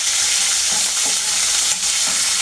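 Mustard seeds, cumin, green chillies and curry leaves tempering in hot oil for paneer 65 give a loud, continuous close sizzle with a few brief crackles and stirring.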